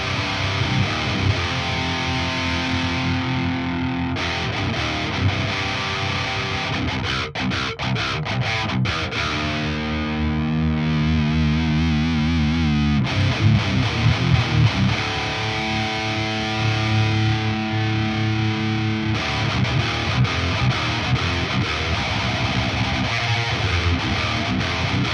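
Electric guitar through an Axe Fx III modeling a Mesa Boogie Dual Rectifier Solo Head with the drive turned up, a sustained, heavily distorted and sizzly tone playing chords and riffs continuously at steady loudness, with no one talking.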